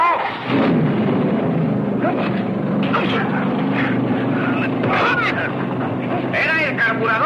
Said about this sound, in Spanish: Por el ruido parece que ya arrancó.